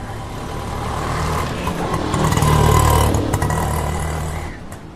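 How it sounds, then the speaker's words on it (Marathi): A tempo goods vehicle passes along a road, its engine rumble swelling to a peak midway and then fading as it moves off. "that is a tempo"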